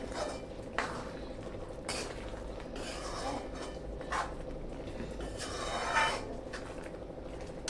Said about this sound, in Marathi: आता ती एका बाउलमध्ये आपण काढून घेऊया